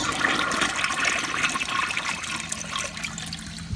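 A Kohler Stanwell urinal flushes with a loud, steady rush of water running through the whole stretch, close by and with no talking over it.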